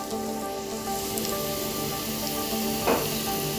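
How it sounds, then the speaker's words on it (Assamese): Pulao rice with turmeric and cashews fries in a pan, giving a constant close sizzle with a faint crackle and one brief stir or scrape near the end, no voices. "এতিয়া এইখিনি এনেকৈ অকণমান 1 মিনিট সময় ভাজি ল'ম"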